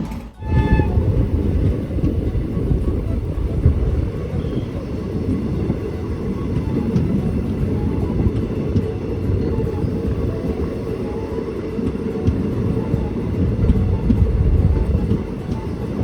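Mettupalayam-Thoothukudi Express train running, a loud steady rumble and rattle of the coaches heard from on board, continuous throughout with no voices.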